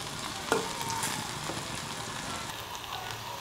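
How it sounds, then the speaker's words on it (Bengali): Pieces of sweet pumpkin fry in a pan with a soft, steady sizzle and occasional stirring clinks, close by and fairly quiet with no talk. "এভাবে আমি আরও কিছুক্ষণ ভেজে নেব।"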